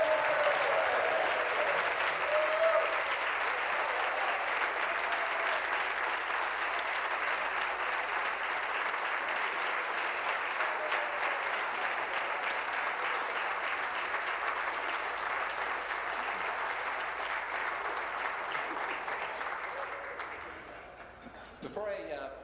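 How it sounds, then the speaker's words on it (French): Sustained applause in a parliamentary chamber for the pages, with many hands clapping in a steady, even roar for over twenty seconds that thins out and fades near the end. "Donc applaudissons nos pages."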